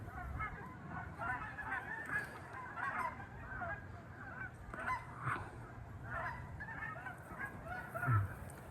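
Migrating Canada geese honking from a distance, with repeated overlapping calls from a large flock over soft background noise and occasional faint voices.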